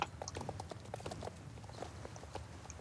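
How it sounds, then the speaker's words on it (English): Horse hooves clip-clop in a steady walking rhythm in a video game, a string of light, fairly quiet hoofbeats with no voices over them. "She is such a beautiful horse."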